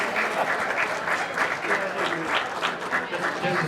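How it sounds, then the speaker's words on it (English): Sustained applause from an audience at a bowling hall of fame induction ceremony, a dense, steady patter of many hands clapping close by for the whole stretch, with some crowd voices mixed in. "Clap hands."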